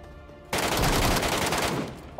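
Rapid bursts of automatic gunfire erupt suddenly in a first-person battle royale video game, loud and sustained for under two seconds with no talk over them.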